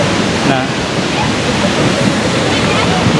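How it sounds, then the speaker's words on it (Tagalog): Loud, roaring rush of a waterfall in Ourika, Morocco, heard close up from the top of the falls, a continuous broadband wash of crashing water with faint voices beneath it. "nakarating na rin kami dito sa tuktok ng waterfalls"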